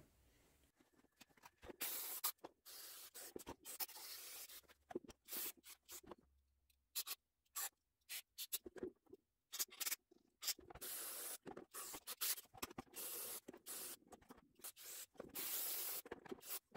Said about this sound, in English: I'm going to go spray this down with carb cleaner